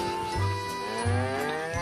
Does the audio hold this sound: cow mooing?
yes